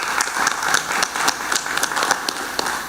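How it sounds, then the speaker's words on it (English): An audience applauds guests at a mining project environmental presentation, a steady patter of many hands clapping at moderate distance for about three seconds, with no talking over it. "I'd like to give a round of applause to the guests that came here and spoke"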